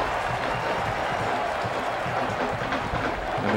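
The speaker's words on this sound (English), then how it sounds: "The crowd has something to cheer about." At a 2001 Big Ten college football game between Indiana and Wisconsin, a large stadium crowd roars and applauds in a dense, steady wash that holds evenly throughout, with a commentator's voice faintly underneath.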